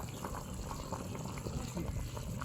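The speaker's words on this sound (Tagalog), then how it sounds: "Oh, kumukulo na siya." A pot of mung beans bubbles at a steady rolling boil, a soft continuous gurgle and popping heard up close, fairly quiet.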